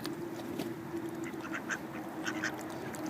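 Ducks quack in scattered short calls over a steady outdoor background, several birds sounding at a modest distance with no talk.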